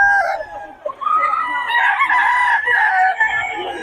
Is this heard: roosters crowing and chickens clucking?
yes